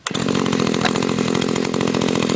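A chainsaw, either Husqvarna or Stihl, roars into a warm restart and keeps running at a loud, steady, rough-toothed high idle right up close, with no voices.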